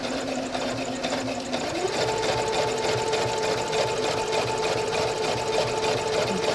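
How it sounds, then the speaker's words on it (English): A sewing machine runs steadily, top stitching a flat fell seam close along the fold, its motor whirring continuously with a hum that steps up in pitch partway through, with no talking. "I'm just top stitching really close"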